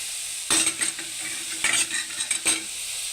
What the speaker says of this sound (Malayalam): ഞാൻ അരിഞ്ഞ് വെച്ചേക്കുന്ന പച്ചമുളക് ഇടാം.